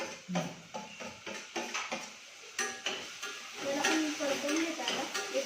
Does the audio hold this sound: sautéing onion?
yes